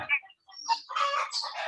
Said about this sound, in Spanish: No sé qué ha pasado en mi gallinero, está que hacen bulla.